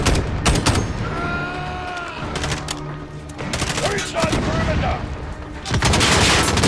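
Gunfire in Call of Duty: Modern Warfare (2019), with loud bursts of automatic fire and sharp shots hitting in quick clusters. Booms and game effects are mixed in, and a player talks between the volleys.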